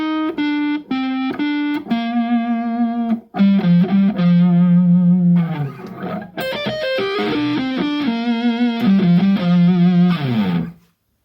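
Distorted electric guitar playing a fast neoclassical lick, bright sustained notes with quick runs and held bends, loud and alone without talk.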